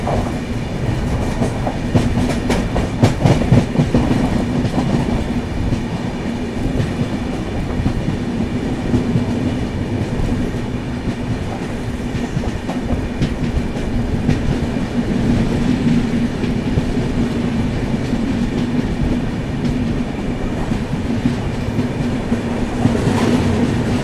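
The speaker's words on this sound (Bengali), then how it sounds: "সামনে আসছে ট্রেন নাম্বার 12506 উত্তর পূর্ব এক্সপ্রেস" Uttar Purv Express 12506 from Anand Vihar Terminal to Kamakhya Junction, hauled by a WAP locomotive, rolls steadily past at a station with loud continuous rumble and rhythmic clickety-clack of wheels, a brief squeal near the end.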